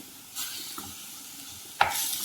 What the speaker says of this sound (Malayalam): ഒന്ന് നല്ലപോലെ ഈ നാളികേരത്തിലേക്ക് പിടിക്കും വരെ ഇങ്ങനെ ഇളക്കി കൊടുക്കുക